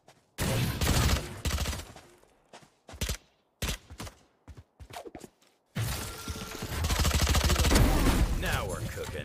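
Rapid bursts of gunfire in Valorant, with a spray at the start, several sharp single shots through the middle, then sustained loud shooting at the end, over game noise and talk.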